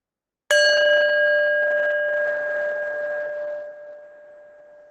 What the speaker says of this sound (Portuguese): um sininho, onde vocês podem perceber o som